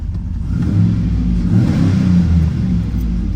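A twin-turbo car engine revs up and holds with a deep, rumbling exhaust note, loud and close, swelling slightly before easing back.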